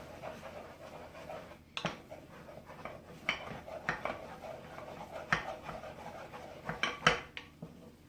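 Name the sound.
stirring choux pastry dough with a wooden spoon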